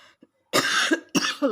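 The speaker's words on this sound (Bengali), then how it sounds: "দেখেছো কি কাশি হয়েছে আমার" A person coughs twice, close and loud, with a short first burst and a second harsh cough after a brief pause, with no other sound around them.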